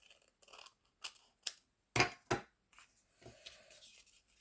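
Scissors cutting folded paper for an Easter scrapbooking craft, a handful of sharp, close snips spaced irregularly, with quieter rustling of paper between cuts.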